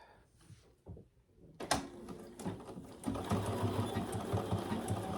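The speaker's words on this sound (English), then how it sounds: "back stitching" Up close, a sewing machine back stitches a tote bag seam after a few quiet handling clicks, starting with short bursts and then running steadily at a fast rhythm.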